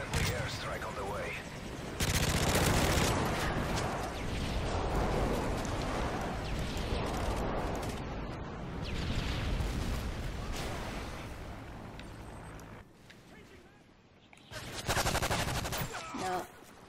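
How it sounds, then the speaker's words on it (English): A friendly airstrike pounds the area in a first-person shooter game, with loud, sustained rumbling blasts and rattling gunfire that swell and fade in waves, a voice talking at points. "Friendly airstrike on the way."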